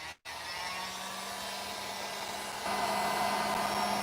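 A hair dryer blows steadily on glitter paper for a tumbler, a loud close whoosh that cuts out briefly at the start, then grows louder and brighter partway through.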